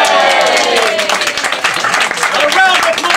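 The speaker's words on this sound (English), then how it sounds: "A round of applause for our ladies as well" A crowd claps and cheers together in sustained applause at a 2005 event in Lancaster, with voices shouting over the clapping.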